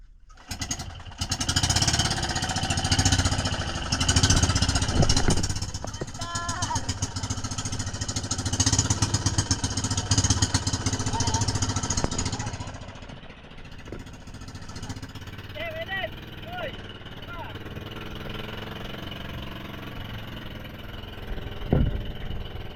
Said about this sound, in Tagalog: Buti na lang talaga ay umandar pa ang makina namin